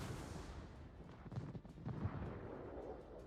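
Naval gunfire in World of Warships, with the battleship Ohio and the cruiser Des Moines firing: deep rumbling booms and muffled blasts rolling one after another at moderate distance, low and heavy.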